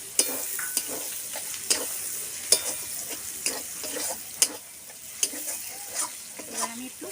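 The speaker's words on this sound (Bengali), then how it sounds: "এবার এই কুচনো পেঁয়াজগুলো দিয়ে দেবো।" Chopped onions go into hot oil in a frying pan for a Bengali chicken curry, giving a steady close sizzle broken by repeated sharp scrapes and clicks of stirring, with no talking.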